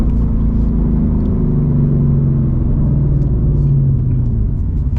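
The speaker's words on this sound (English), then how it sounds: "Now that I took it out of this car, you can really hear the exhaust a lot louder." A Ford Mustang GT S650 with its rear seats removed, heard from inside the cabin with the windows up: loud, deep, steady exhaust rumble and engine drone with slight pitch shifts as it cruises, no talking.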